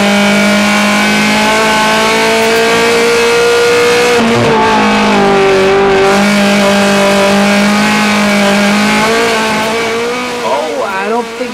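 Honda Challenge race car engine heard from inside the cockpit at Mid-Ohio in 2004, droning loud and steady with pitch rising and falling through shifts and corners. A commentator talks over it.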